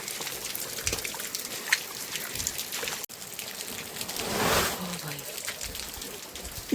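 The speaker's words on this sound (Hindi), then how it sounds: "यहाँ देखिए कितनी बारिश हो रही है" Rain falls steadily outdoors near a house while water trickles and collects in a pool. A constant hiss of drops is broken by a brief dip, then a swell of louder splashing, with a faint muffled voice in the background.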